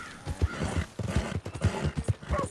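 Horse hooves clip-clopping at a gallop with neighing and whinnying in the Red Dead Redemption 2 video game, steady rhythmic beats close and loud throughout, no talking.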